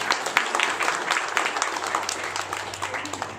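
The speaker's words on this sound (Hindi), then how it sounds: "इनके लिए तालियां बजा दो भाई" A crowd claps for a man who has started walking again, a steady patter of hand claps at moderate distance, fairly quiet, with no talking over it.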